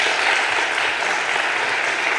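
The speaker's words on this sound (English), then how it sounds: "a warm round of applause" An audience claps in a dense, steady round of applause that holds at an even level for a couple of seconds.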